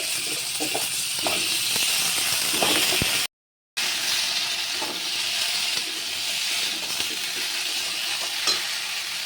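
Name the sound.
tomato, potato and taro frying in hot oil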